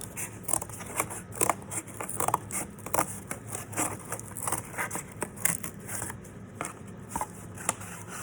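Scissors cutting cardboard for a sealife sculpture, a close, steady run of crisp snipping and crunching cuts in an uneven rhythm, with no talking.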